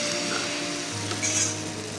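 A ladle of batter hisses steadily in hot refined white oil, a broad close sizzle with a faint clink near the end, no speech.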